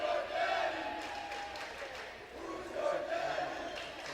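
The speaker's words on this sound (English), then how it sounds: "We are once again hearing the "Who's Your Daddy" chant from the crowd." Crowd at a high school girls' varsity volleyball game chants in rhythmic unison, rising and falling in two swells from a distance in a gym.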